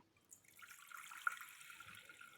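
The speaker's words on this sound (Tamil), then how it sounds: "ஒரு குக்கரில் தேவையான அளவு தண்ணி ஊற்றிக்கலாம்" Water poured into a pressure cooker on a stove while cooking a Tamil kootu, a soft steady trickle and splash lasting a couple of seconds, faint and close with no talking.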